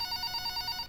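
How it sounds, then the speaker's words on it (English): An electronic telephone ring trills in rapid pulsing bursts, a bright warbling tone repeating steadily throughout, fairly close and with no voices over it. "the phone's ringing"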